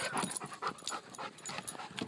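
A dog panting in quick, rhythmic breaths during outdoor ball play, close and fairly loud, with small whimpers and no talking.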